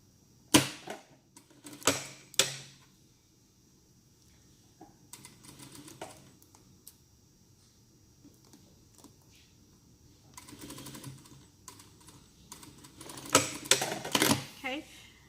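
Sewing machine back stitching a seam on a baby African dress, heard as short mechanical rattling bursts that start and stop, mixed with quiet talking.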